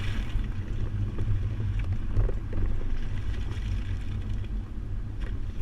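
A 2011 Cadillac Escalade carrying a Kuat NV 2.0 two-bike hitch rack weaves through a slalom course, giving a steady low rumble of engine and road noise with wind rushing past and faint rattles, with no talking.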